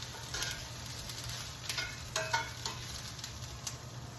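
Peppers and onions being stirred in a pan for an Italian meat sauce, a steady low sizzle with soft scraping strokes of the spoon repeating every second or so, close and fairly quiet throughout.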